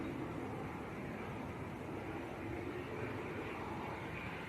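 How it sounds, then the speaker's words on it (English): An Air France airliner taxiing past at Manchester Airport, a steady low jet-engine rumble and whine heard from a moderate distance, constant throughout with no talking. "this Air France, just taxiing past us now"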